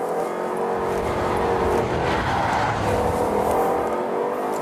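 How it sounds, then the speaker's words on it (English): Jaguar XKR with a 5-litre supercharged V8 driven hard on a road, a loud continuous engine roar and tyre noise heard close from inside the car, rising and swelling steadily. "Here we are in the new XKR, 5-litre supercharged V8."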